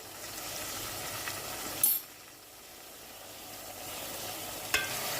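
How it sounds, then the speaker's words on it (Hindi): A soft, steady sizzle of masala paste with ginger frying in oil, with a couple of brief clinks of a utensil against the pan. "ये देखें हम इसका मसाला भून रहे हैं।"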